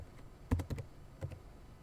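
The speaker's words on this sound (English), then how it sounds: "So if I just control F and type" A few quick keystrokes on a computer keyboard, soft and close, in a short burst of about five taps.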